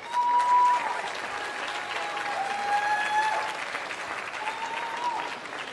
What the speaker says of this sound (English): Again, let us really give it all to this whole group. Applause, please.